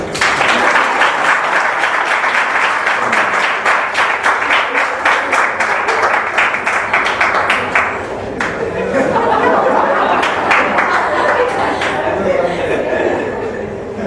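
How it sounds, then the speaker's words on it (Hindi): An audience at a lecture series breaks into loud, sustained applause, dense rhythmic clapping that thins slightly midway then swells again, with chuckles and murmuring voices mixed in. "ताली बजाओ।"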